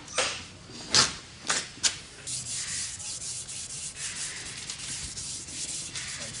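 Hand sanding paint with 320 grit sandpaper: a few distinct scratchy strokes at first, then continuous close rubbing with a quick, uneven back-and-forth rhythm.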